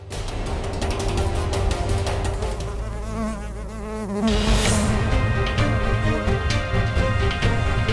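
A bee buzzes in a supernatural scene from a Hindi TV serial, a steady, loud insect drone that runs the whole time within a dense soundtrack and swells into a fuller burst midway.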